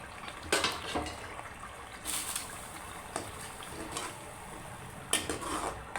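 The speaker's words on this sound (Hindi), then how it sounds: "अब इस पेस्ट में हम दाल डाल देंगे।" Lentils are added to a masala paste in a pot for Pakistani daal mash, with a few short, close splashing, clattering bursts spaced irregularly over soft background noise.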